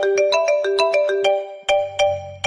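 A mobile phone ringtone plays a repeated bright electronic chime, loud and close, running alone with no speech before a lower tone begins near the end.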